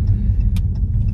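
A car engine rumbles steadily at low pitch while the car is being parked, a continuous close drone with a few faint higher clicks over it.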